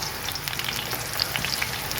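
Brinjal frying in hot oil for pickle, a steady close sizzle with scattered sharp pops and crackles and no voices.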